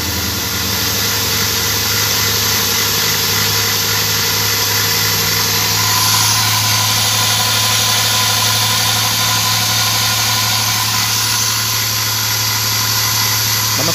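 Dodge Caravan engine idling steadily, a loud continuous hum and whine with no change throughout.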